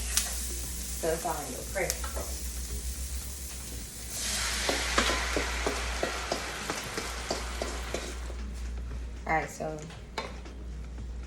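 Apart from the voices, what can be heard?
mushrooms sautéing in a pan on the stove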